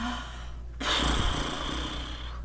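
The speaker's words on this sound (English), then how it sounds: "you can have that horsey breath with the added noise" A single long, breathy exhale pushed through loose, fluttering lips, a horse-like blubbering sound, close and fairly loud.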